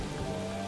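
Rain falls as a dense, steady patter, moderately faint and continuous for under a second, with no voices.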